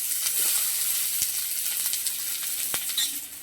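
Chopped onion sizzling in hot oil in a pan, a steady close crackling hiss with occasional louder pops and stirring scrapes, no voices.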